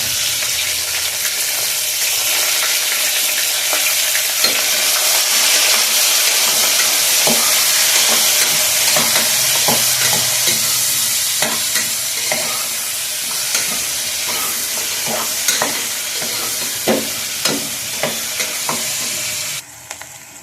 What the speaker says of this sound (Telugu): ఫస్ట్ ఉల్లిపాయలు వేసేసుకోవాలి, తర్వాత పచ్చిమిరపకాయలు వేసుకోవాలి.